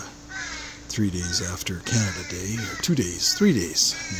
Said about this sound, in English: And hear those crows in the background?